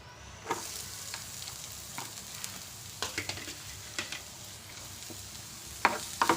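Chopped onion frying with grated coconut in a hot pan gives a steady sizzle, with stirring scrapes and spatula knocks close by and no speech.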